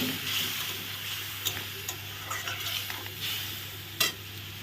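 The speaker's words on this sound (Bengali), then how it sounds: "এখন একটু জল দিয়ে কষিয়ে দিলাম মশলা" Spice masala for boal fish head curry sautés with a little water in a pan, a soft steady sizzle punctuated by intermittent stirring scrapes and light clicks of a spoon against the pan.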